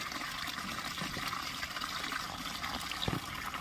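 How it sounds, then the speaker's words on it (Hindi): Quiet trickling and lapping of water, with soft slurps and splashes as a Banni buffalo drinks on a farm, steady and close. "भैंस पानी पी रही है।"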